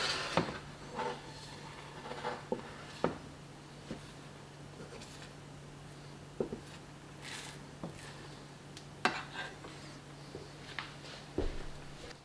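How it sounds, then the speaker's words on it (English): A utensil works scrambling eggs around a pan, giving quiet scattered scrapes and taps at irregular intervals over a steady low hum. "push the edges towards the center, then to distribute the wet parts around the pan"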